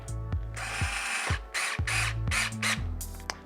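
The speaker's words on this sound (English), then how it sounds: "Now I am using a battery drill to put the screws back in" A cordless drill whirs in several short bursts, with ratcheting clicks as it drives screws into a deck plate on a 2021 Apollo Explore electric scooter, up close.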